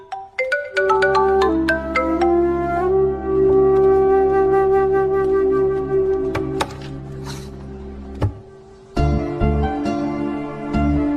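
A phone rings loudly with a melodic, tonal ringtone. The notes repeat for several seconds and then cut off, followed by a few brief bumps.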